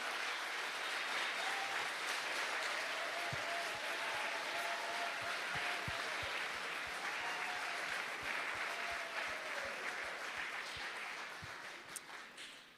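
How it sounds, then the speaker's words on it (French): Steady, dense applause from a large audience at a special presentation event, sustained for over ten seconds at moderate distance before tapering off slightly at the end. "Puis, on peut-tu les applaudir?"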